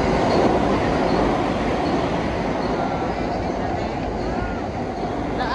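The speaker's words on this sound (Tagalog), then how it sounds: "Daanan po ng tren." Train passing along a rail line, a steady broadband rumble of wheels and cars that holds for several seconds and eases slightly toward the end, close and loud.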